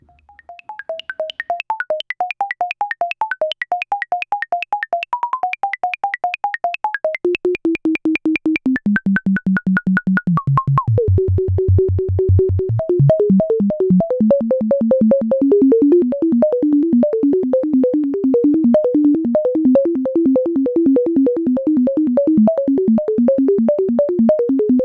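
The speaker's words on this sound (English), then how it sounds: "ping that filter from our timing signal for the system, and hear new pings as each timing pulse goes by" Serge analog synthesizer filter pinged at high resonance by the system's timing pulses, giving a rapid, steady train of sharp, ringing pings whose pitch steps downward, bottoms out, then jumps back up and wanders, loud and alone.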